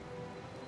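Rain falls steadily in the detective video game Chicken Police, a soft continuous patter and hiss with no voices over it.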